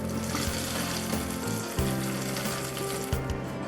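Ghee tempered with cashews, raisins and dried red chillies is poured into a Kerala-style chicken stew, giving a loud, steady sizzle and crackle throughout with a few brief splashy bursts, close and alone.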